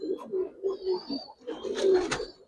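Giribaz coloring pigeons coo in a low, throaty rhythm of repeated rolling calls close by, growing a little fuller toward the end, with no speech over them.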